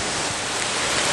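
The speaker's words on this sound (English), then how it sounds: "Look at that rain on that tin roof up there." Heavy rain drums on a tin roof as a thick, even hiss of close, loud downpour with no gaps.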